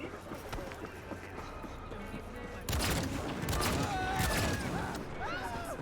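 Shots from a modded weapon in Cyberpunk 2077 ring out as a few loud, sharp bursts over busy game noise, with faint background chatter and effects running throughout.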